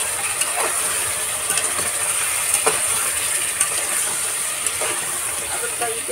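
Yogurt added to a hot pan while cooking mutton korma gives a steady, bright sizzling hiss throughout, with faint scattered crackles and pops.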